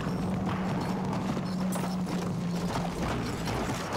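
A galloping horse's hooves in the Battlefield 1 video game on the St Quentin Scar map clatter rhythmically with mechanical rattling and battle noise, fairly loud and constant.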